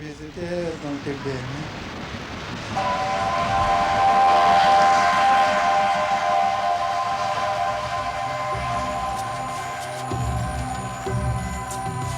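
A steam train's whistle blows a long, steady tone over the rumble of the moving train, and a voice speaks over it near the end.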